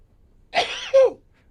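A single short, explosive sneeze-like burst close to the microphone, with no talking around it.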